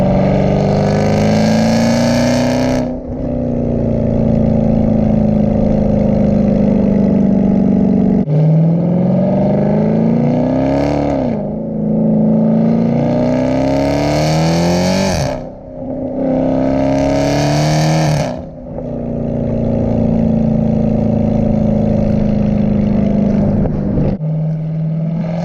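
A Dodge Challenger Redeye with an 8-speed automatic accelerates hard, its loud exhaust roaring and rising in pitch through several quick upshifts, each marked by a brief dip before the next climbing pull.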